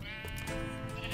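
A Minecraft sheep gives one short, wavering bleat over a busy game soundscape, close and clear.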